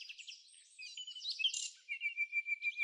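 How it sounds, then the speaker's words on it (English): An African jacana calls in Botswana: a run of thin, high chirps and trills that settles into a steady series of rhythmic, pulsing notes, clear and fairly close with no other sounds around. "the African jacana"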